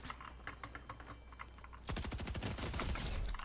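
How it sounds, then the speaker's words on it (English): Keyboard keys click steadily up close, then a rapid burst of video-game gunfire takes over and continues as dense automatic shots. "I hear gunshots."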